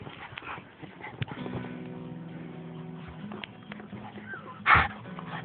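Two little dogs and one big police dog playing: scuffling paws and patter run throughout at moderate level, with one short, louder yelp or bark close by near the end.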